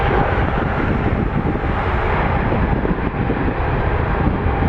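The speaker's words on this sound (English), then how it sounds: "Clear takeoff, Air Canada 640." Broadband roar of an Air Canada airliner taking off from runway 23 at Toronto Pearson, a steady and loud rumble with wind-like noise that holds constant from start to finish, with no voices.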